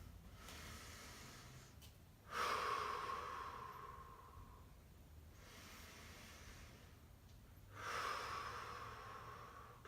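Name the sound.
recovery breaths after a hamstring exercise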